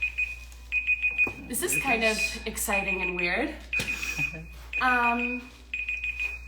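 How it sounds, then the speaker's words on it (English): A timer going off indoors, repeating short high electronic beeps in a steady pattern through the whole stretch while a person talks over it. "It was a timer."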